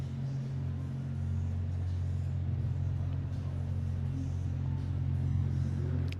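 A pack of Lamborghini Gallardo Super Trofeo Evo 2 race cars rumbles steadily off the grid at Spa-Francorchamps, a dense low engine drone with a commentator talking over it.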